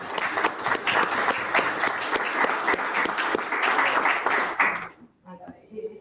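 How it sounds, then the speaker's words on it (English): An audience applauds at a conference session on infrastructure, bridge and port projects, a dense patter of clapping filling the room for about five seconds with voices mixed in, then cutting off abruptly to near silence with faint speech. "So we give an applause for this."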